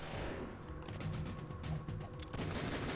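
Dense, loud gunfire from a Metal Gear video game, a steady barrage of overlapping shots that crackles on without pause for the whole stretch.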